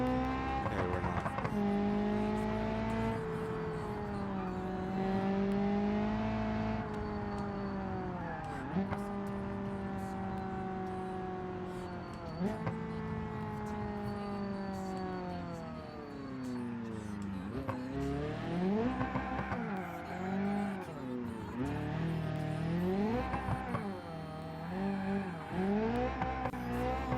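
A car engine in a driving video game drones and revs continuously with steady tonal whine, pitch rising and dipping through gear changes, with grinding and scraping moments toward the end; no voice over it.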